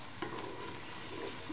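Spices being stirred into yogurt, a brief soft scraping and wet mixing close by with a couple of light knocks, no voices.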